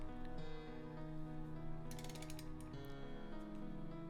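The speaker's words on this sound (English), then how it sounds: "you can take your 19mm deep socket and just guide it on in until it seats to the nut" A ratchet with a 19mm deep socket on the crank nut turns a Honda Prelude H22 engine, giving rapid metallic clicking bursts over a steady mechanical whir, close and clear, with no speech.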